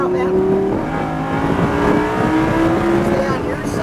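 A Lamborghini Huracán engine roars at full throttle on a Florida race circuit, loud and close from inside the car, its pitch climbing steadily through the gears with brief dips at the shifts.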